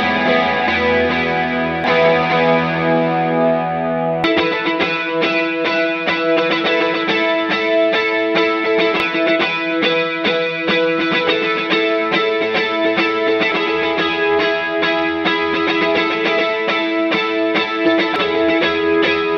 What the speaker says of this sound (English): adding in some wet effects to show you the difference between Iridium in the middle of your chain, between overdrive and wet effects